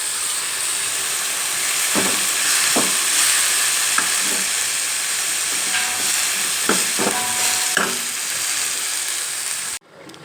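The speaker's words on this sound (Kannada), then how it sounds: "ನಾನು ಇವಾಗ ಹೆಚ್ಚಿಟ್ಟಿಟ್ಕೊಂಡಿರ್ತಕ್ಕಂಥ ಕ್ಯಾಬೇಜನ್ನು ಹಾಕ್ತಾಯಿದ್ದೀನಿ" Chopped cabbage frying in a pan for a lentil palya, a loud steady hiss with steam while a spoon scrapes and knocks the pan several times, ending abruptly.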